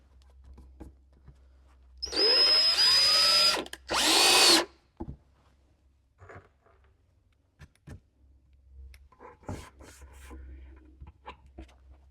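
A power drill drives screws into a wax-coated wooden 10-frame Langstroth hive box in two loud, close bursts of whirring, the second shorter, followed by quiet handling taps and faint rustles.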